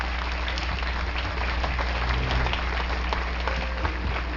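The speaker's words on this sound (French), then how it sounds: "Alors, une bonne main d'applaudissements" Crowd applause at a Relay for Life charity event in Terrebonne, a steady, broad wash of clapping from a gathered audience, moderately loud and continuous, heard outdoors with a low background rumble.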